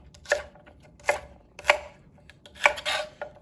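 A knife chopping celery on a cutting board in an oblique cut: four distinct sharp thunks spaced roughly half a second to a second apart, close and clear, with no talking.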